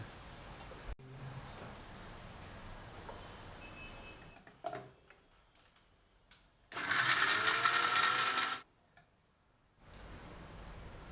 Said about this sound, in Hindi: अब मिक्सी रे जार में डालना पीस लिया।